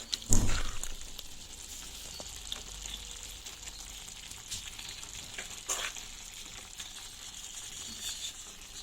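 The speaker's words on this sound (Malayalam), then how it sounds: "ഇനി നമ്മൾ നമ്മുടെ വേവിച്ച് വെച്ചിരിക്കുന്ന നമ്മുടെ പാസ്ത ഇതിലേക്ക് ആഡ് ചെയ്ത് കൊടുക്കാൻ പോവാ" Boiled pasta tipped into a pan of frying noodles and vegetables, giving a steady sizzle with a sharp splash and clatter near the start and another brief knock midway, all close and moderately loud.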